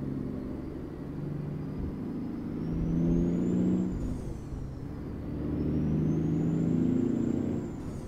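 Steady engine drone of a truck with a 1,225 horsepower Caterpillar engine, hauling an oversized load in American Truck Simulator, a low rumbling hum that swells and eases with a faint rising and falling whine above.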